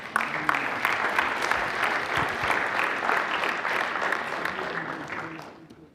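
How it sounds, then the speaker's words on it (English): A crowd at a Chicago City Council meeting claps steadily, the applause sustained and fairly loud before tapering off at the end. "How about a big round of applause for these folks?"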